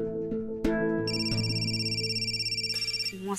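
A telephone rings in a TV drama scene with a bright electronic ringtone that pulses rapidly and evenly, fairly close and clear, layered over soft background music.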